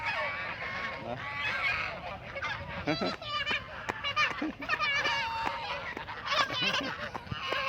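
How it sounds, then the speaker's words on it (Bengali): A flock of ducks by a river calling in loud, overlapping honks and quacks, near and busy, with bursts of calls through the stretch and faint voices in the background. "হ্যাঁ, তো হাঁসগুলা ডাকতেছে।"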